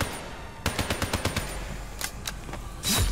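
Gunfire in Black Ops 3: a quick string of sharp, evenly spaced shots, then a few scattered single shots and a heavier blast at the end, all fairly loud and close.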